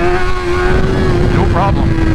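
A 2024 BMW M1000XR motorcycle accelerates hard in first gear, a loud close engine drone rising steadily in pitch while someone talks over it.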